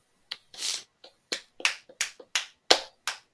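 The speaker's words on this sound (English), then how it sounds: "Everyone clap." A handful of people clap during a podcast recording: about nine sharp, close claps arrive in an uneven, scattered rhythm with short gaps between them.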